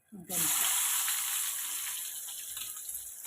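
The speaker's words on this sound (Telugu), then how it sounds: "ఇప్పుడు ఇదే ఆయిల్లో వంకాయలు వేసుకున్నాం." Eggplant pieces hit hot oil with a sharp onset and then sizzle loudly and steadily, a close, bright frying hiss that fills the whole stretch with no talk over it.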